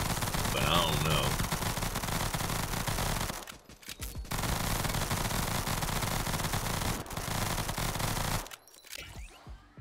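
Rapid automatic gunfire from a video game weapon buzzes in a dense, motorboat-like stream, loud and continuous, breaking off briefly twice before stopping near the end.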